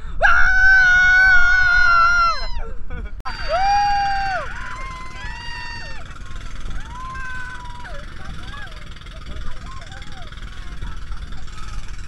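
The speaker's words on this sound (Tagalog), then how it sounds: "Sumigaw lang kayo malakas para marinig yung sigaw." Several people on a white-sand beach in Dipaculao, Aurora, scream loudly together in a sustained group cry that breaks off briefly, then resumes with wavering, overlapping shouts.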